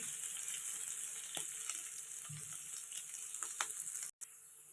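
Onions for a Bengal gram curry fry steadily in a pan, a constant close hiss of sizzling with faint scrapes, cutting out briefly near the end before resuming.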